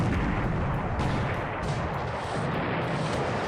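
Destroyer gunfire in a World War II naval video game, dense booming artillery blasts rolling over one another in a loud, continuous barrage.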